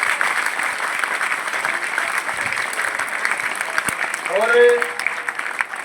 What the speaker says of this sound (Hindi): इस बात पे तालियां सबकी उठनी चाहिए, बजनी चाहिए।